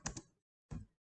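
Two quick bursts of typing on a computer keyboard, a close double key click followed by a single press after a short pause, crisp and quiet.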